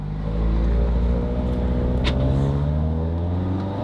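A 370 hp Volkswagen Golf 7R engine drones at close range as the revs climb and ease, with one short, sharp exhaust pop cutting through midway.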